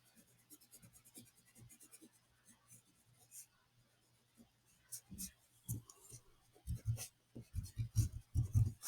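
Pencil strokes scratching on paper while ears are drawn, soft scattered rubbing at first, then louder, denser scribbling bursts toward the end, close and alone.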